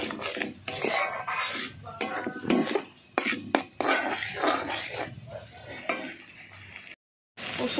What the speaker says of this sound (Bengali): দিয়ে আবার ভালো করে একটু নাড়িয়ে নিচ্ছি।